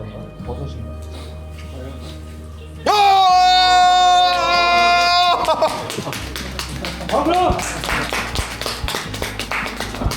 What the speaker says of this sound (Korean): 박수 한번 쳐주세요, 다 같이